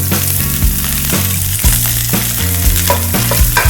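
Onion frying in a pan for a winged bean curry, a steady loud sizzle throughout, with a low musical backing running underneath and occasional stirring knocks.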